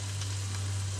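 Sausages cut into little octopus shapes frying in a pan give off a steady, close, dense sizzle over a low hum, with no talking.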